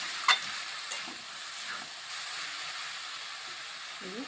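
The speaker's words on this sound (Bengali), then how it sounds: "এই আলুগুলি হাই ফ্লেমেই ভেজে নিতে হবে" Potatoes frying in a pan over a high flame, giving a soft, steady sizzle with a couple of brief stirring knocks near the start.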